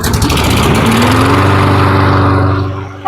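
A Kohler engine on a Toro riding mower fires up and settles into a steady, loud, close idle with a constant throbbing hum, running alone with no talk.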